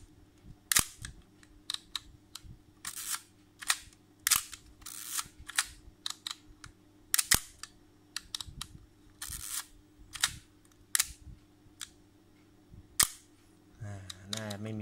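Nikon FE2 film camera shutter fired repeatedly at different speeds, sharp close mechanical clicks spaced irregularly across the span with quiet gaps between, a voice speaking briefly near the end.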